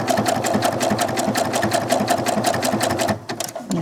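Sewing machine stitching a seam on doll clothes, a steady fast loud mechanical whir that runs for about three seconds, then slows and stops.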